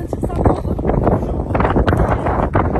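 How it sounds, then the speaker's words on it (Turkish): Wind blows across the microphone in the village of Bezirgan near Kaş, Antalya, a continuous low rumble of gusts throughout, with no talk. "Yalnız biraz da rüzgar esiyor"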